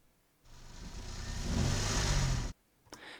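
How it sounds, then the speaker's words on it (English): A small 1-litre car engine revs up on its own, a rising, strained roar that swells for about two seconds, then cuts off abruptly, with a faint knock just after. "So that was just my 1 litre engine trying to rev"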